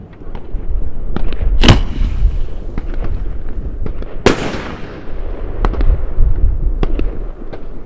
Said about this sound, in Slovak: tentokrát je to takáto gulovka 75, je plnená oceľovou vlnou a 5 gramov petardov a ideme si to odpáliť